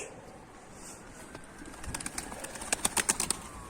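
Domestic pigeons coo in a loft among a flock of Konya bango and baska tumblers, a few soft rounded calls building toward the end over faint wing flutters and outdoor ambience.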